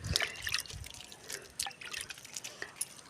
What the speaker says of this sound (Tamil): புதுசாக வைக்கிற எந்த பிளான்ட்டுக்கும் ரொம்ப தண்ணி கொடுக்க வேண்டாம் அதனால ஓரளவுக்கு மீடியமாக கொடுத்துட்டு